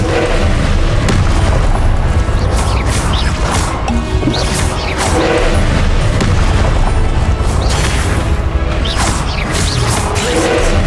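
Explosive fire spells burst during a Hogwarts Legacy battle, a dense, continuous roar of booms, crashes and whooshing impacts filling the whole stretch loudly, with no pauses between hits.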